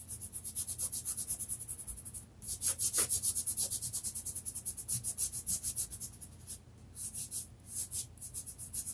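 Pencil rubbing on paper while sketching a fox, a close, steady series of quick back-and-forth strokes with a soft scratchy rasp, briefly pausing before resuming the same rhythm.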